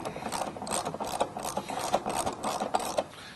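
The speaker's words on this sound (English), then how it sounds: "We're going to take a T40 and we're going to go ahead and remove the back set of bolts on each side of the cowling" A T40 driver ratchets out the rear cowling bolts on a Jeep Wrangler JL, making a continuous close clicking and grinding ratchet sound that runs steadily throughout.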